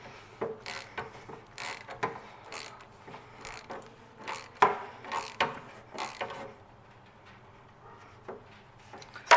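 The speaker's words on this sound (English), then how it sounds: "then just go ahead, take your socket" A socket ratchet tightens the plastic oil filter housing back down on a 2012 Chevy Malibu, giving a series of quiet, uneven clicks and creaks with short pauses between turns, close and fairly soft.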